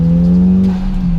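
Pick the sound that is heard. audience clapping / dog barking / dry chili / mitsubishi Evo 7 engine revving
mitsubishi Evo 7 engine revving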